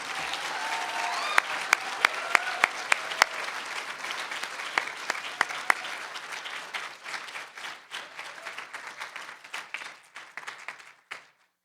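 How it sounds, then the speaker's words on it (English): Awards-dinner crowd at a chamber of commerce gala gives sustained applause, dense clapping from many hands with a few louder nearby claps standing out, fading away at the end. "let's take a moment, give Sue a round of applause"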